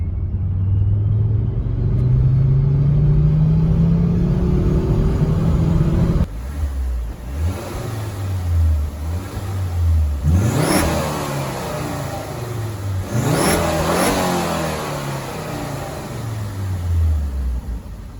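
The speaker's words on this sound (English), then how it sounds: "when you really get on the throttle in this car, it has such a nice rumble to it" A Volvo C30 five-cylinder engine revs under throttle, starting with a rising drone as it accelerates, then settling into a deep, close rumble broken by two sharp revving surges.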